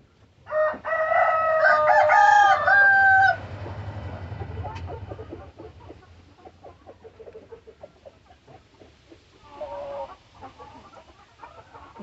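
GSB breed chickens crow loudly close by at the start, followed by softer scattered clucking and scratching in a farmyard and a brief call near the end.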